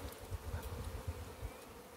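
Italian honeybees hum steadily at an open hive in March, a dense low drone with throbbing pulses, close and continuous with no speech.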